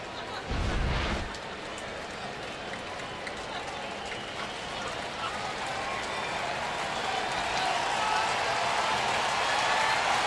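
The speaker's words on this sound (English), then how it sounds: "Crowd trying to make some noise." A crowd at a baseball stadium during a Cleveland Indians vs St. Louis Cardinals game with the bases loaded keeps up a broad, continuous roar and clapping that swells slightly, after a brief low thump near the start.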